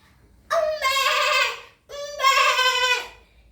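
Two loud, close goat bleats, each a drawn-out wavering cry about a second long, separated by a brief pause, used as a sound effect in a told story set in a forest.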